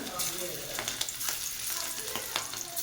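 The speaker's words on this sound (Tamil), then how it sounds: "இப்போ நம்ம ப்ரான் ஃப்ரை பண்ண போகிறோம்." Prawns frying in a pan for prawn biryani, a close, steady sizzle with occasional stirring scrapes and pops, heard alone without talking.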